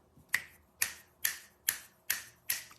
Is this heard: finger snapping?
yes